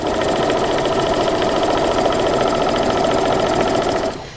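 A sewing machine stitches torn white fabric strips onto a quilt block, running steadily and close for about four seconds with a fast, even mechanical chatter before stopping abruptly.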